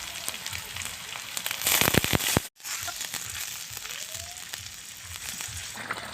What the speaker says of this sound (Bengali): এবার দিয়ে দিব জল হালকা